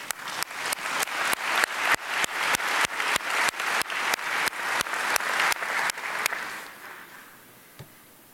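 An audience at an annual meetings plenary applauds steadily and loudly for several seconds, a dense wash of clapping that fades out near the end, followed by a single faint knock.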